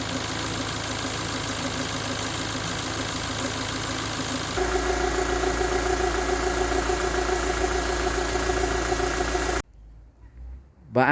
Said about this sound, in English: The Sigma, despite having solid tappets by design, which is supposedly noisier, it's not actually that much more noisier than the K series at idle